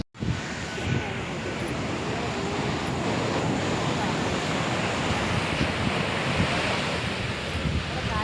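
Sea waves at Kappad beach in Kozhikode, heard from the rocks along the shore, keep up a loud, continuous roar of surf mixed with heavy wind buffeting.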